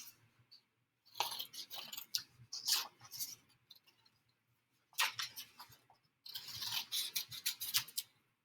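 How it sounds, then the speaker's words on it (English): Scissors cutting out a paper number line, quiet crisp snips in two short bursts of several cuts each with pauses between, close and faint. "I'm going to cut out my number line"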